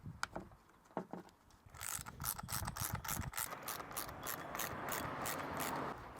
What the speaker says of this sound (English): let's get those torque screws back in